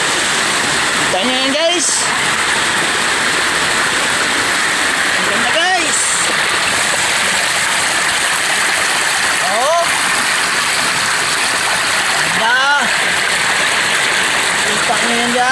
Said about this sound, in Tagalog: Tumatagas yung tubig.